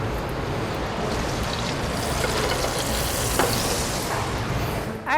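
Potatoes fry in a pan with a loud, dense, continuous sizzle and crackle, close up and steady throughout, with a faint scrape near the end; no talking.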